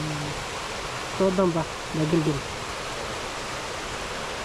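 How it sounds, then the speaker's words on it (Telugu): Steady broadband rush of a waterfall in a New Zealand forest fills the whole stretch, with a man's brief speech rising over the constant roar midway. "చూడు అక్కడ పైనుంచి వాటర్ పడుతుంది."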